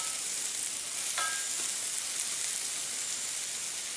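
Crushed ginger and garlic drop into hot oil in a pan for a shallow-fried chicken curry, giving a loud, even, continuous sizzle with a brief clink near the start.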